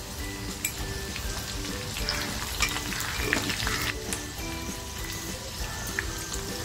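Slit red chillies dropped into hot oil with mustard seeds for a sweet-sour tomato chutney, a dense close sizzle and crackle with light stirring clinks throughout, no speech.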